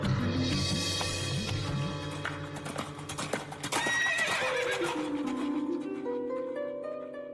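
A horse whinnies loudly over steady clip-clopping hooves, set against a dense musical backing that thins out toward the end.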